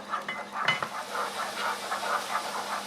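Minced onions brown in a pan with a faint, soft sizzle and hiss, lightly stirred, with a brief clink of a utensil partway through.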